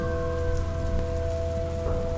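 Steady rain in a village at night, a dense, even hiss of drops striking the ground and nearby surfaces, continuous and fairly loud, with no voices over it.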